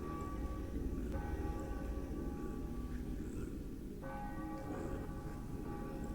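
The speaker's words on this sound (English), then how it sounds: "God, the church bells." Church bells in the video game The Path toll in the distance, a couple of clear ringing strikes spaced a few seconds apart over a soft ambient hum.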